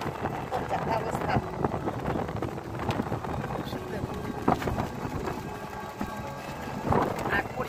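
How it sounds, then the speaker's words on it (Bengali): Strong sea wind buffets the microphone on a beach, a steady broadband roar with gusty swells throughout, while a voice speaks briefly over it. "এত হাওয়া দিচ্ছে না, সমুদ্রের হাওয়া কি বলবো"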